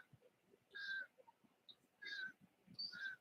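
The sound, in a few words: bird calling loudly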